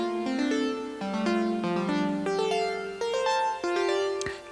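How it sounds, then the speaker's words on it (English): Quad synth from Spitfire Audio Labs, lightly processed, plays a sustained harmonic melody with gliding, overlapping notes and a steady level, alone with no voices. "So this is the quad from Spitfire Audio Labs."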